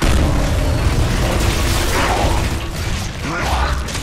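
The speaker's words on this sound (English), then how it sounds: "Incoming frag!" A frag grenade goes off in an online shooter's king of the hill match, a loud booming burst with rumbling debris and mechanical rattles rolling on for several seconds.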